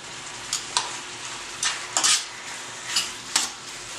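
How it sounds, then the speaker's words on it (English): Meat browns in hot oil in a pan, a steady close sizzle broken by several sharper bursts of spattering and stirring scrapes, with no talking. "We're going to brown the meat and cook it down."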